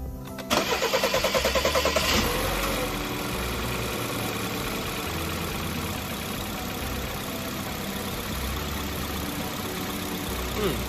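A BMW N20 car engine with about 270,000 km on it cranks briefly with a rapid starter chatter, catches, then settles into a steady, close idle that continues alone to the end.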